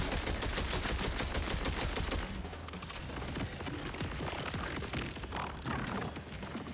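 Jakobs assault rifle firing rapidly in the video game Borderlands 4, a dense, continuous burst of loud gunfire for about two seconds, then continuing more irregularly alongside game effects and clattering through the rest.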